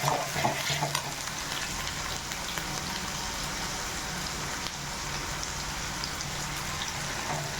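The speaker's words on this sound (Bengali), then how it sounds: "তেল দিয়ে দিয়েছি, সরষে তেল দিয়েছি, তারপরে পেঁয়াজ কুচি দিচ্ছি" Chopped onion fries in mustard oil, giving a steady, soft crackling sizzle that continues evenly throughout, with a few faint clinks early on.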